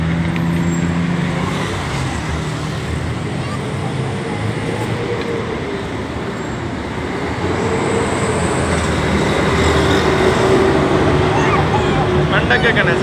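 A train passes in Bangkok, Thailand, producing a loud, steady rumble and roar that swells toward the end, with voices talking over it.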